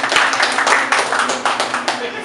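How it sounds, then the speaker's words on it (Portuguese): A round of applause for a South American bench press champion at a round-table panel, steady dense clapping from a small group running continuously with voices mixed in. "Uma salva de palmas, campeão"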